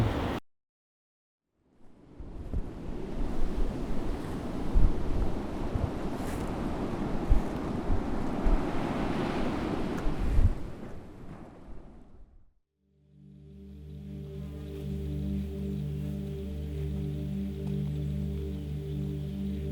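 Wind and rough water at sea rush in a loud, gusty wash for several seconds, then give way to a steady low droning hum.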